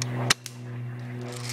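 A single sharp report from a Mossberg 590 shotgun fired outdoors, a brief crack with a quick echo and then a steady mechanical hum continuing underneath.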